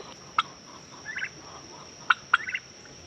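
Black Spanish turkeys gobbling in a garden, three sharp gobbles with rattling follow-up calls, close by against a faint steady hiss.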